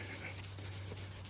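Wet 1000-grit sandpaper rubbing across the plastic lens of a 2011 Honda Accord headlight, a steady close scratchy scrubbing with quick back-and-forth strokes over a constant low hum.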